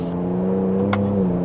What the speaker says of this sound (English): it's a quick truck for a very minor acceleration there. I did have the exhaust in sport mode